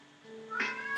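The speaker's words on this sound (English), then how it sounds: "oh, your dog can hear my cat." A cat's single drawn-out meow rises in pitch and grows louder toward the end, close by, with a brief second cry starting as it cuts off.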